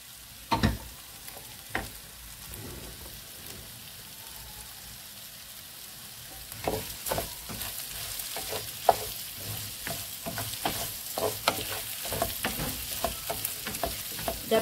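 Ingredients browning in a pot for fish-stock rice sizzle and crackle, with a few sharp stirring knocks early on and denser spattering frying that builds in the second half, no talk.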